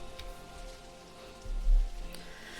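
Rain falling in the indie video game A Brief Story of Love, a soft continuous patter under a quiet ambient music bed, with a low thump partway through.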